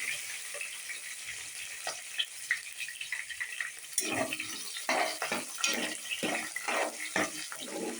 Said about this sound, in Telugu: ఆనియన్స్, పచ్చిమిర్చి, కరివేపాకు, బిర్యానీ ఆకు, లవంగా, చెక్క ఇవన్నీ బాగా ఫ్రై అవ్వనివ్వాలండి ఆయిల్లో